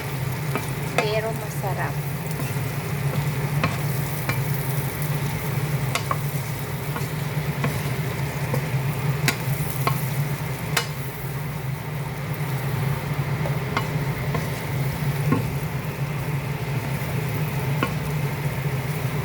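Mushrooms stir-fry with smoked duck in a hot pan, a steady close sizzle with scattered spatula clicks and scrapes throughout; a voice speaks briefly.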